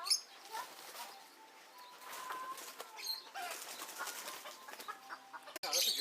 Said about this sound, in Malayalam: കോഴികൾ പുറത്തിറങ്ങിയ കോഴികളും ഉണ്ടല്ലോ ഇതിനിടയിൽ കൂടെ.